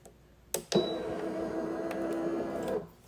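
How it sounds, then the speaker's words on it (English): HTVRONT auto tumbler heat press: a click, then a steady mechanical whir for about two seconds as it closes, then another click as it stops. Quiet and close, with no talk over it. "I'm just going to turn it on just so that we can see it close"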